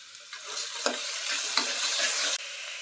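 Tomato pieces fry in a pan with onions for a mutton curry, a bright close hiss with a few stirring scrapes before the sizzle drops off sharply near the end.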